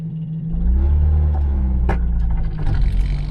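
A classic car with a bad engine mount drives along, its engine a loud, steady low rumble with a brief sharp knock near the middle, no one talking.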